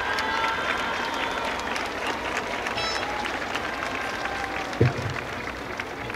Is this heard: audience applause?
yes